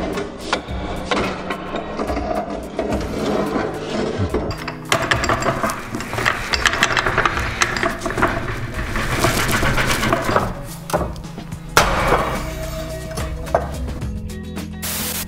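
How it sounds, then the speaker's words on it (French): A manual tile cutter works a rounded cut into a ceramic tile, giving repeated close scraping, snapping and chipping sounds with irregular knocks over a steady low background hum. "avec une carrelette, on peut faire des coupes arrondies de ce type-là"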